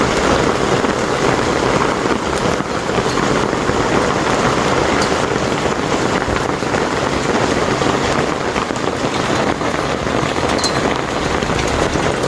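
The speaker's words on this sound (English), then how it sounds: "some of it sounded like hail hitting. It was coming down so hard." Heavy rain pours down hard outdoors, with hail mixed in, making a loud, dense and unbroken roar of drops hitting surfaces that lasts throughout with no voices.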